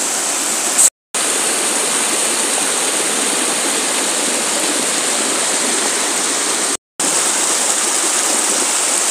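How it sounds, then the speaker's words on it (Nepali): Namaste Jharana waterfall in Nepal and its stream pour in a loud, steady, full roar of rushing water close by, broken twice by brief cuts to silence. "मेरो नमस्ते झरना यही हो त"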